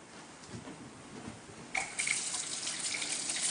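Cold tap water runs over freshly boiled eggs in a kitchen sink, a steady hiss of flowing water that starts quietly and then swells louder partway through.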